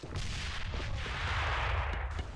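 A grenade blast in a first-person shooter rolls out as a sustained, heavy low-end rumble with gritty debris, loud and continuous across the moment with no speech over it.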